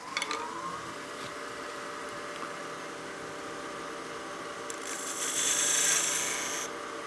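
A lathe tool scrapes and tears across the end grain of a small wooden bat house ornament, a steady rasping hiss that grows louder and brighter toward the end, with no talking.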